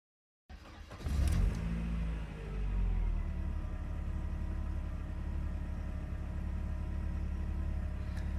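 A Mercedes 220CE with a rough-running complaint cranks briefly and fires into a loud, steady idle after a moment of silence, its low rumble holding close and even to the end.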